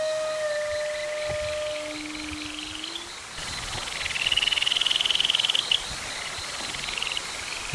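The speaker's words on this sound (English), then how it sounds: "You can hear the frogs calling all around" Night chorus of frogs and insects on Okinawa, with steady high trilling and chirps, and a pulsing rasping call building in the middle, moderately loud and continuous.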